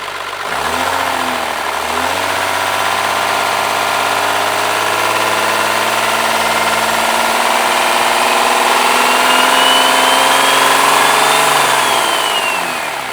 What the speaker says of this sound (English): You're looking at a twin turbocharged 12 valve Cummins turbo diesel.